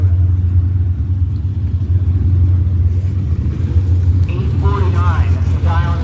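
Drag racing cars, including a supercharged Mustang and a Ford, rumble with a low, steady engine drone at the strip, while a track announcer talks over them.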